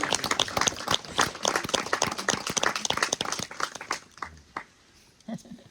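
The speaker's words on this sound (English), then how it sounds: "That's got to be worth a round of applause." Applause from guests at a wedding ceremony, a dense patter of clapping that thins out toward the end, with some voices mixed in.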